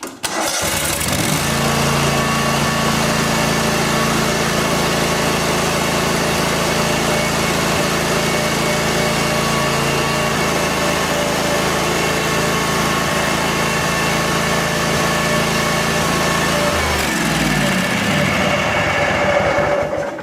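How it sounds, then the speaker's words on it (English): A Kohler Command V-twin engine with a blown head gasket runs steadily at close range with a rough, chugging idle and faint hissing, then stutters and shuts down near the end. "So if yours is doing this, you got a blowed head gasket."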